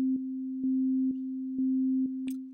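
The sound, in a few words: Ableton Operator synth with square wave LFO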